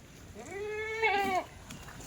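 A single clear, wavering Kathiawari goat bleat rises and falls, close by, against a quiet background at a goat sale.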